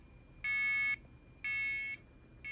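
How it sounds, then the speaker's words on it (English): A shrill electronic buzzer from a home security system keypad sounds in three long, evenly spaced bursts, each about half a second, against a quiet room. "So if I push beep, it plays the buzzer."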